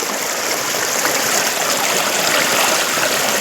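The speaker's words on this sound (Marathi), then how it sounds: "वाहत आहे पहा खळखळ असं पाणी वाहत आहे" A steady, close babble of a stream flowing over rocks, continuous and fairly loud, with no voices.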